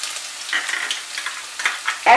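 Chopped garlic sizzles in hot oil with cumin, dried chilli and bay leaves for a dal tadka, a bright crackling fry close by with stirring scrapes and a louder sizzling burst at the end.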